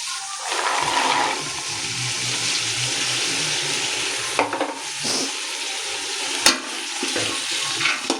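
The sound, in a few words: meal maker and green peas frying in oil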